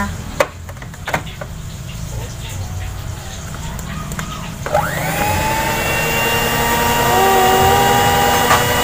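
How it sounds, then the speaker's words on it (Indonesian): Electric stand mixer whirring on to mix donut dough, starting after some clattering handling and running as a steady loud motor drone with a rising whine. "Langsung aja kita nyalakan mixernya."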